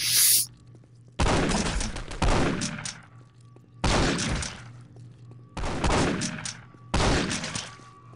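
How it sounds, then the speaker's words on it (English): Rocket launcher blasts in the Postal 2 video game, four loud, evenly spaced explosive bursts, each with a long rumbling decay and near-silence between them. "Have rocket launcher!"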